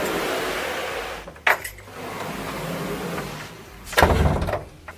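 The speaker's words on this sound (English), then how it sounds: "Let's just do double checking that the door opens." A door fitted with a new brush strip along its bottom edge is opened, giving a couple of sharp clunks and a brushing sweep against a steady indoor background hiss.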